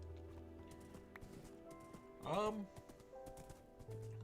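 A Minecraft horse whinnies briefly amid light hoof clatter and background hum, with a voice talking around it.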